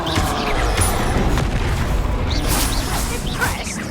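Spell-casting effect for Expelliarmus in the Hogwarts Legacy video game, a loud booming magical burst with whooshing swells layered over dense in-game action noise, with voices speaking throughout.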